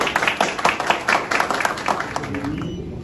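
An audience applauds at the installation of a new director of Haiti's national ambulance center (CAN): steady hand clapping from a modest crowd, fading over a few seconds, with a voice talking underneath.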